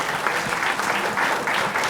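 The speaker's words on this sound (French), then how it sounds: "vous pouvez l'applaudir" A crowd applauds a contestant at an oyster-opening competition, a dense, steady wash of many hands clapping at once, close and full, with no voice on top.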